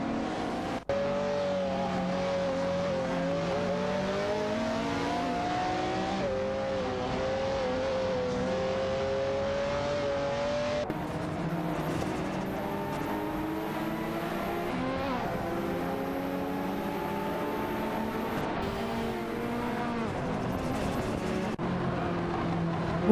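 Race cars, including a Bugatti EB110 SS and a Lamborghini Diablo GTR, roaring through a video game race with steady engine drone and rising and falling revs as gears shift, continuous and close throughout.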